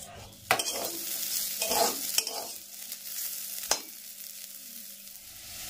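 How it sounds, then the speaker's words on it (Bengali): Leafy greens fry in a home kitchen pan, a soft steady sizzle broken by a few sharp stirring clatters, close and fairly quiet. "তাই এখন আমি আগে শাকটাই ভেজে নেব।"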